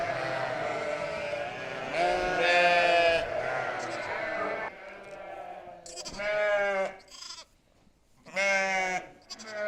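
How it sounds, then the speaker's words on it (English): Lambs bleating on a farm, several loud, close calls with a wavering, harmonic tone, some overlapping, separated by brief pauses and set against steady background noise. "And that is all these lambs."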